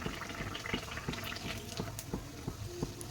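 Puffed nan bread frying in a pan of hot oil gives a steady, close bubbling crackle with small pops and clicks scattered through it, and no talking.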